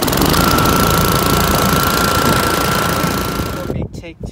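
A small lawn equipment engine, with a choke cable needing repair, runs loud and rough at close range, then abruptly cuts out, leaving brief low rattles.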